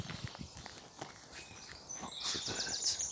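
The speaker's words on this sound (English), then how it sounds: "Lots of birds." High chirps and trills of morning birds, including a warbler, sing a short way off in Heaton Park, over the crunch of footsteps on rough ground.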